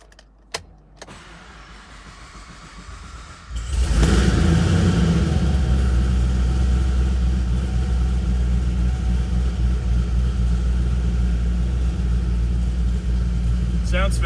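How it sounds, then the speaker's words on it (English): A supercharged 6.2L V8 2013 Chevrolet Camaro 2SS starts with a crank and settles into a deep, loud, rumbling idle through an aggressive custom exhaust, steady and close. "Does have a custom exhaust as well, as you'll hear right away."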